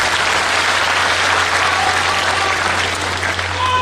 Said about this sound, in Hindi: एक बार जोरदार तालियों के साथ स्वागत करो।